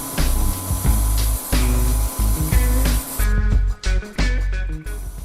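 Pressure washer spraying water across a cheap rug, a loud, steady hiss interrupted by brief pauses and bursts as the stream sweeps and moves.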